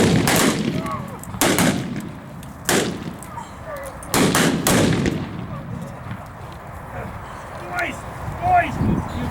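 Gunshots in a Wild West reenactment, several loud sharp cracks fired in quick succession outdoors, followed by shouting and crowd voices as the shooting stops.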